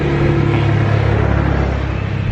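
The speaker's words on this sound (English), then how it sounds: "The tractor just passed me." A tractor rumbles loudly past on a quiet country road in Provence, its steady low engine drone close by a cyclist, with no talk over it.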